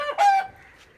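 A single hen on a small home chicken farm lets out one short, close cluck, followed by a quieter trailing note.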